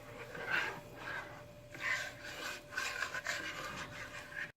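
Cooking polenta pudding being stirred in a pot over low heat, a close, soft repeated rasping scrape of the spoon against the bottom in an uneven rhythm.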